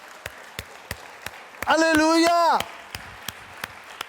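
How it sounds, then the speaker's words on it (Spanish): A church congregation claps in a slow, even rhythm of sharp single beats during a sermon, while a voice calls out loudly in the middle of the claps. "Démosle un aplauso a Jesús."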